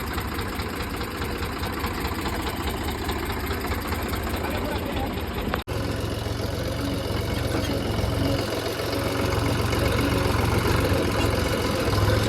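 A tractor engine runs steadily nearby, a loud continuous low rumble with knocking vibration and a brief cut partway through.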